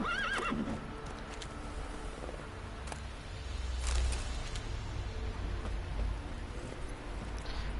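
A horse in The Witcher 3: Wild Hunt gives a short whinny at the start, followed by soft hoof sounds over a continuous rain-like ambient hiss.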